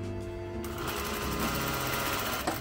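Sewing machine stitching a half-inch hem on a structured gown, a steady fast mechanical whir and chatter, loud and close, starting after a brief quieter moment.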